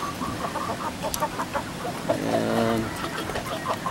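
Japanese Shamo chickens gathered around feed outdoors, with soft scattered clucks and one short drawn-out call over a low background, fairly faint, and a brief spoken word.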